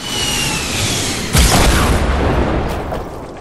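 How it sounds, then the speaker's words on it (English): An RPG rocket fired in a game, a rushing launch followed by a loud booming blast about a second in, then rumbling decay and a few faint later pops, with no talking. "Simo, get your RPG out"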